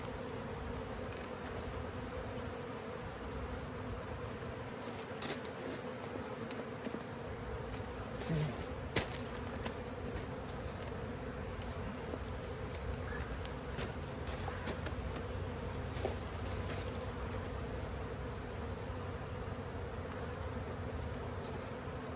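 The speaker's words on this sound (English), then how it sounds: "They have enough bees that they'll get up here" Honeybees buzz steadily throughout a hive inspection, a dense continuous drone close by with a few louder individual bees passing near, and no talk over it.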